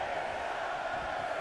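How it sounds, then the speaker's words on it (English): A wrestling arena crowd in WWE 2K22 roars in a steady, unbroken wash of massed voices, loud and even with no distinct counts standing out. "Listen to this crowd count the next one in."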